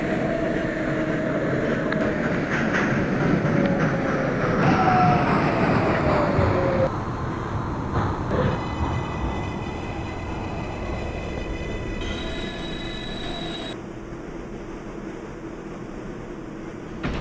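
A New York City 6 local subway train bound for Manhattan rumbles loudly and continuously along the track, with high metallic wheel squeals and whines rising over the roar partway through, and air-conditioning hum underneath.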